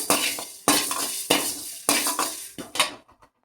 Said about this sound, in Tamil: போட்டு கொஞ்சம் செவக்காய் வரைக்கும் வறுத்துக்கலாம்